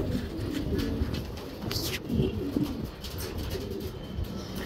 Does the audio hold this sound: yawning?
no